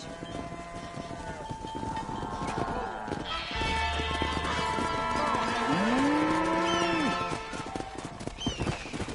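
A cattle herd on a ranch in Red Dead Redemption, with a long low moo rising out of a busy mix of clip-clopping hooves and a horse's whinny, while people talk nearby.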